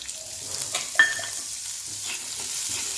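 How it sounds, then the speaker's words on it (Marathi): Fresh pigeon pea beans roast in oil in a kadhai, a soft steady sizzle broken by scraping spatula stirs and a sharp clink near the middle. "तेल आहे कढईमध्ये त्याच्यामध्ये ते भाजून घेऊया"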